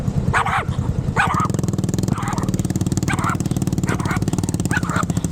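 Repeated sharp barks from a small Pomeranian ring out over a steady motorcycle engine drone, several yips spaced through the clip.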